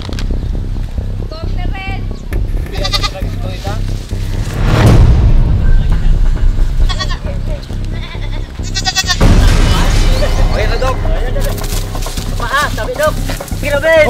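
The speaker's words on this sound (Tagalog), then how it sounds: "Nahirapan tayo ng kambing na ito." Goats bleat in short, wavering calls amid outdoor commotion and loud thumps, with voices talking nearby.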